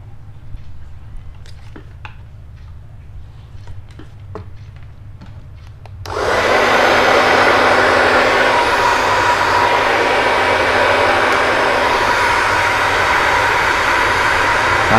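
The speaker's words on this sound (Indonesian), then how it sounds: "Sekarang kita keringkan dengan hair dryer." A hair dryer switches on partway through, drying freshly conditioned hair during a weekly toupee hairline cleaning routine; after quiet handling noises, a loud steady whoosh with a constant motor tone runs continuously to the end.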